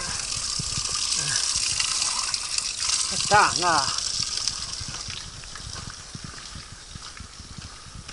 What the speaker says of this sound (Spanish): vamos a coger un poco de agua aquí.